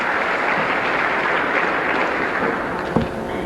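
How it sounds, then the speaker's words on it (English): Applause from the audience at a 1990 high school underclass awards ceremony in a hall, an even, continuous wash of many hands clapping at moderate volume with no talk over it. "But we'll give her a round of applause anyways."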